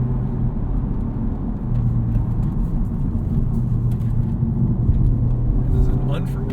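A 2023 Honda Civic Type R driving gingerly along a back road, its steady low engine and road rumble heard from inside the cabin beneath continuous talk.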